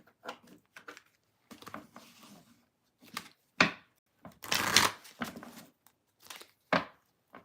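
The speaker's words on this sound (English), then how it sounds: "I still have 2 more decks to shuffle" Tarot card decks are shuffled by hand at close range, giving irregular bursts of riffling and slapping card noise separated by short pauses.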